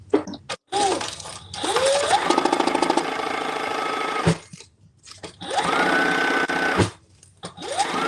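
Sewing machine basting fabric pieces in place, a close rapid mechanical whirr that runs in several bursts separated by short stops.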